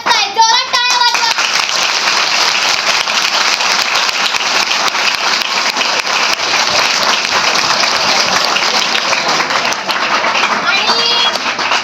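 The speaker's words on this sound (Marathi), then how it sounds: "जोरात टाळ्या वाजवा." Audience at a Savitribai Phule birth anniversary and women's liberation day event applauds loudly and steadily, dense clapping filling the whole stretch, with a few voices and a short whistle near the start.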